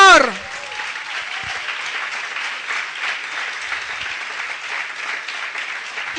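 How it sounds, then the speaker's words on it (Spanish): Church congregation applauding at a Holy Week congress, a dense, steady burst of clapping sustained for about six seconds right after a spoken line, close and loud throughout. "denle un aplauso al Señor"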